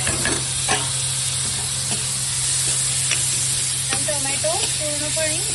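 Tomato added to golden-pink onions fries in a pan for anda bhurji masala, giving a steady close sizzle with occasional stirring clinks and scrapes, and a faint voice partway through.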